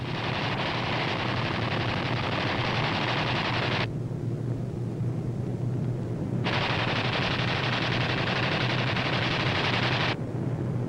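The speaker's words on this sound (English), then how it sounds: "These B-25s are carrying out low-level strafing operations against Jap surface vessels" WWII B-25 bombers strafing at low level with machine guns, a loud, continuous roar of rapid fire mixed with engine noise. Two sustained bursts are split by a brief lull.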